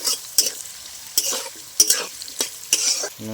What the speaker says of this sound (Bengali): একটু ভেজে নিচ্ছি আলুটা। পেঁয়াজ কুচিটা দিয়ে দিলাম